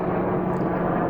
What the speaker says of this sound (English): I'll wait till the helicopter goes over.